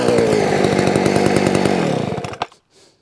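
A Sachs Dolmar 133 chainsaw engine runs loud and close with a rough, pulsing idle, then sputters and dies within a couple of seconds, leaving near silence.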